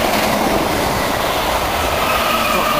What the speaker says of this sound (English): Here comes another London bound in the city now, thundering past Needham Lake.